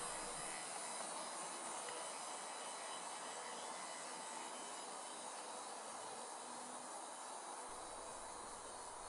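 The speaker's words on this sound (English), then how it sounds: "I ran the bare chassis a few times to make sure it would go round my somewhat roly-poly track" A bare model tram chassis runs around a worn, uneven model railway track, giving a continuous faint whirring hiss and light rolling rumble with no voices.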